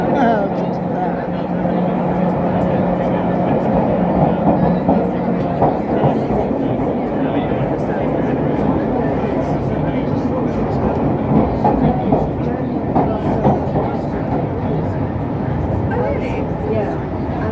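A London Underground 1938 stock train runs toward Northfields, filling the space with a steady, loud rumble and rattling clickety-clack from the carriage, with a low hum early on and people talking over it.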